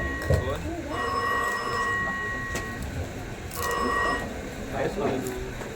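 A telephone rings in two electronic bursts, with voices talking before, between and after the rings, during a Konkan Naman folk theatre performance.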